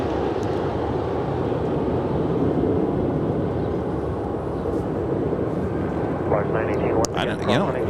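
Jet aircraft engine roar, a Volaris Airbus A320 at Los Angeles International Airport, a steady loud rumble filling the scene with brief higher whine near the end.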